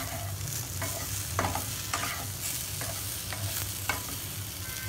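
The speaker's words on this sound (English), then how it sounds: "Mix it very gently." Oats vegetable dish with garam masala and chopped coriander leaves being stirred gently in a pan, a steady scraping swish with soft sizzling underneath, close and continuous.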